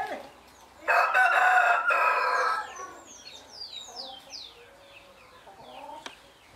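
A rooster on a rural smallholding crows once, loud and near, a long harsh call that fades out, followed by softer bird chirps in the background.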